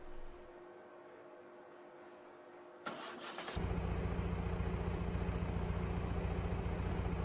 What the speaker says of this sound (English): This is the actual sounds from the 2520, starting the idling sound.